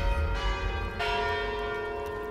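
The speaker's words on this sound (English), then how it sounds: "It's a very loud bell." A loud church bell rings close by, its resonant tones sustaining and overlapping as a new strike sounds partway through.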